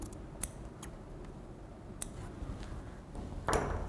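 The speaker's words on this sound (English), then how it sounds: "Now, cut in and slash to this point." Scissors slash into fabric while draping a flared skirt on a dress form, giving a few brief crisp snips spread across the moment and a louder cutting burst near the end, close and with no talk.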